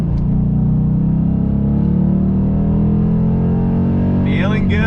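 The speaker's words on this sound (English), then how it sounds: "So first gear, on throttle, here we go." A Dodge Challenger T/A V8 accelerates in first gear, its close, loud engine rising steadily in pitch, with a short burst of speech at the end.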